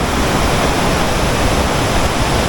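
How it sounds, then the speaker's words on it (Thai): Kuang Si waterfall in Laos after flooding, a dense, loud and unbroken roar of rushing water that fills the whole moment with no breaks. "อันนี้ถือว่าเป็นจุดที่ว่า งามสุดของน้ำตกตาดกวางสีเนาะ"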